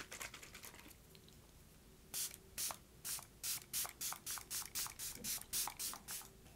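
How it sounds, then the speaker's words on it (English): A makeup setting spray serum is misted over the face in a quick run of about a dozen short, soft pumps, each a brief hiss, close and alone in a quiet room. "I'm going to set the makeup using the first spray serum"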